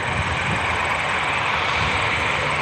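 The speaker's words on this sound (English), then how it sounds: "Hear the loudness of the Southwest. The 737-800 taking off." A Southwest Boeing 737-800 takes off at Albany International Airport, its jet engines producing a loud, close, steady roar that holds constant throughout with no voices over it.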